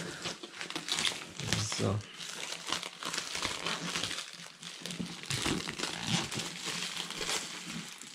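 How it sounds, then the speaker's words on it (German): Stiff plastic shrink-wrap foil being pulled and crinkled off a board game box, loud close crackling and tearing that continues throughout, with a person briefly speaking over it. "die Folie ist echt ein bisschen eine sehr feste Folie"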